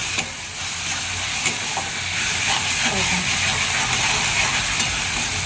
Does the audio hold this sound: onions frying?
yes